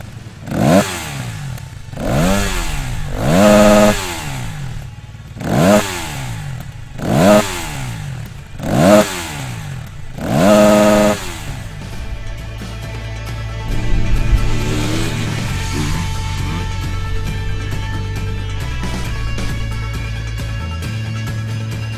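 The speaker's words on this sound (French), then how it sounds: "Pas de kick, mais un démarreur électrique avec décompresseur et le mono s'ébroue immédiatement dans une jolie sonorité." SWM RS 300R single-cylinder motorcycle from 2016 with an electric starter and decompressor: about six loud, evenly spaced rev bursts, then the engine settles into a steady running thrum.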